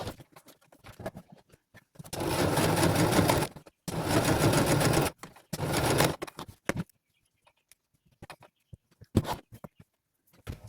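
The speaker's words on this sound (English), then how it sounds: "I'm going to sew down the 2 sides of the apple, and I'm also going to sew a little spot on the leaf." A sewing machine stitches down the sides of a Korean felt apple and a spot on its leaf for a busy book page, running in three loud bursts of steady motor whirring with brief pauses, followed by quieter handling clicks.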